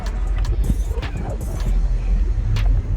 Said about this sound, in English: Let me go ahead and move my car.